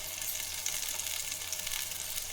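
Raw green plantain pieces frying in hot oil, heard as a steady, close hiss and crackle of sizzling with fine spitting pops, continuous throughout with no talk.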